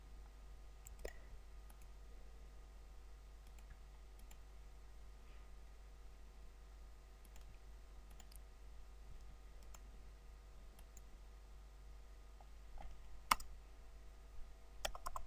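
Computer mouse clicks sound faintly in a quiet room, a few sparse, sharp clicks scattered over a low steady hum, with one louder click near the end.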